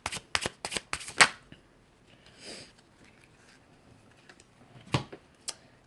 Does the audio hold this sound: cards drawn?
yes